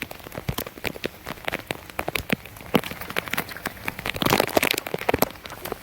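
Rain falls outdoors in a dense, steady patter, with many sharp, close drops tapping and crackling on a nearby surface, fluctuating in intensity throughout and with no speech.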